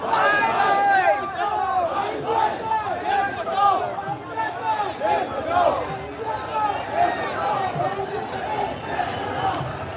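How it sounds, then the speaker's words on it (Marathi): A huge crowd at a Hindu rally march in Nalasopara roars with a constant loud babble of many voices and shouted chants, a voice speaking close by over the dense din. "इतक्या मोठ्या संख्येने लोक आहेत की गर्दी ही याचा शेवट दिसत नाही"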